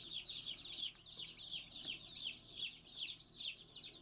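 Several chickens on a homestead cluck steadily at close range, their repeated calls overlapping in an uneven rhythm with no talk.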